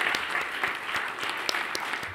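An audience claps at a finance debate event, steady and even applause that keeps going for the whole couple of seconds.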